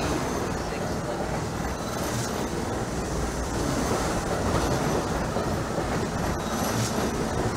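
A New York City subway A Express train in Trainz Simulator 2012 running on the line toward Queens, with a steady, dense rumble of wheels and car noise, faint rhythmic clicks and a brief squeal, loud and continuous throughout.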